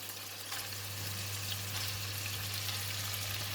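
Yellow onions sizzle steadily in a hot pan for fried kuey teow with shiitake mushrooms, a soft continuous frying hiss with a low steady hum beneath and no talking.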